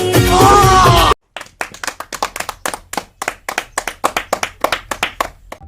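Judges stand and clap after a comedy dance performance: steady, brisk applause from a few people in a close, crisp series of hand claps, following a short burst of loud music.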